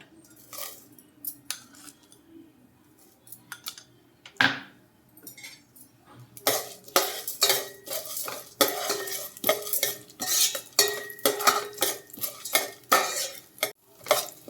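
Urad dal and cumin seeds crackling in a pan for a tempering, with a quiet start giving way to steady spoon scraping and clinking against the pan, moderately loud and close.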